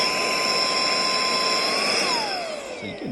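A FIERCEVAC 2-in-1 electric air duster and vacuum runs loud and steady with a high motor whine that drops in pitch near the end as it spins down.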